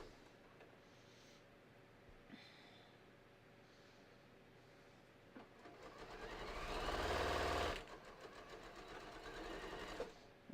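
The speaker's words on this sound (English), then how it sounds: "All right, so I'm just going to stitch this." A sewing machine stitches a hiking belt, starting after a quiet stretch and running in a close, buzzing burst for a few seconds before easing into a lighter, continued whir.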